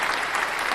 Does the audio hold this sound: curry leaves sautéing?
no